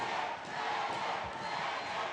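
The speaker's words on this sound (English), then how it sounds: "This crowd is coming alive for Megan Bane" Crowd at a women's wrestling event cheering and roaring for a competitor, a dense, sustained wash of voices at a steady loud level with no single voice standing out.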